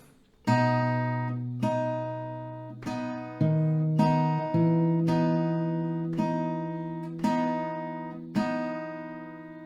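Plucked acoustic guitar notes of a melody ring out one at a time at a slow, steady pace, each decaying before the next, forming a gentle melody with bass notes underneath.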